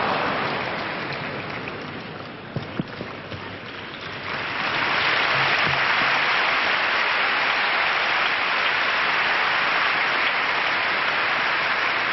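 A crowd at the 1985 Davis Cup tennis final breaks into applause, rising midway into a loud, sustained wash of clapping that continues to the end.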